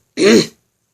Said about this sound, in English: my throat is not helping. Clearing my throat.